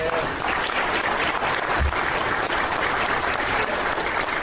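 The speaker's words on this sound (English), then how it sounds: "Give her a round of applause." Steady applause from a crowd, a continuous wash of clapping that holds at an even level for several seconds.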